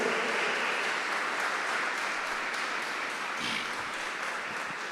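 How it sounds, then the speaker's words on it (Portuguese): A church congregation applauds in a steady, wash-like patter of many hands that stays fairly soft and even, with no voices rising above it. "Você pode dar um forte aplauso ao Senhor, em nome de Jesus."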